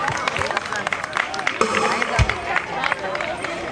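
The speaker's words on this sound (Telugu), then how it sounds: "గట్టిగా చప్పట్లు కొట్టాలి." An audience clapping for Sunday school children at a church gift-giving event, a busy patter of many hands mixed with crowd babble and voices, close and continuous throughout.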